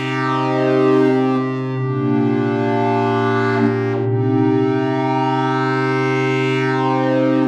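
A sustained synth pad from Bitwig's Grid sings a thick, steady harmonic chord while a filter envelope opens and sweeps its brightness up and down, loud and alone.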